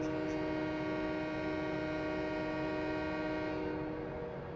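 A loud, sustained train horn from Farming Simulator 17 blares as one continuous chord-like blast, held steady for several seconds and fading slightly at the end, with no talking.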